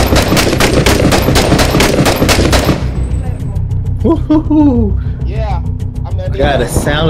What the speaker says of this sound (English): the sound of those bullets hitting the concrete was frightening